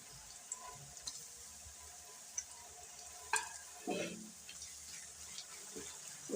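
Crushed green chili paste being mixed and fried in a pan for an aloo paratha filling, a faint low sizzle with soft, scattered stirring scrapes and a few spoon taps.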